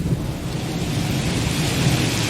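Heavy storm rain pours in a dense, continuous roar with low rumbling beneath it, steady and loud with no voices, as a sound effect in a Star Wars audiobook.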